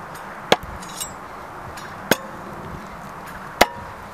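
Three sharp, loud thunks of an axe striking a wooden target, spaced about a second and a half apart, over quiet outdoor background noise.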